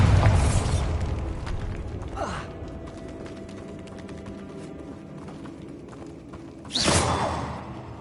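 A Bombarda blasting spell goes off in Hogwarts Legacy: a loud burst opens, a softer creaking, rumbling stretch follows, then a second sharp whooshing blast erupts near the end.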